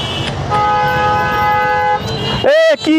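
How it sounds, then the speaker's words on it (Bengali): A car horn blasts in street traffic, one long sustained honk followed by two sharp shorter toots, loud and close over traffic rumble. "কি এত হর্ন দিচ্ছেন কেন? এত হর্ন দিচ্ছেন কেন?"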